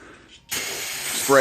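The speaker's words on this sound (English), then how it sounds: "I'm using brake parts cleaner. And what I'm gonna do is I'm gonna just spray it" A sharp aerosol spray of brake parts cleaner hisses steadily from a can around a tire rim, starting abruptly after a brief quiet moment.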